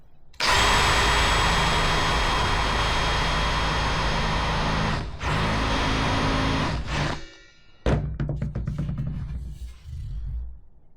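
A Ferrex multi-function sharpener driven by a power drill whirs loudly and steadily while sharpening a drill bit, then the drill stops and restarts in a few shorter bursts that trail off.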